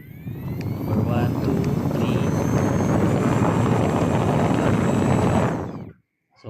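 Akari rechargeable electric fan running at a high speed setting, a loud, steady broadband whoosh of moving air close to the microphone that cuts off abruptly near the end.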